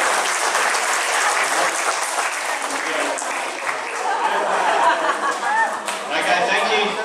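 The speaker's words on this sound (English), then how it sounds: "Let's give them a clap." Crowd at a wildlife park clapping after an animal show, a lively spread of hand claps mixed with background chatter and voices, continuing for several seconds.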